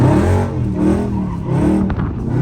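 A Dodge Charger Scat Pack's engine roars at high revs while the car spins donuts, a loud, sustained, wavering drone up close with pitch rising and falling as the throttle is worked.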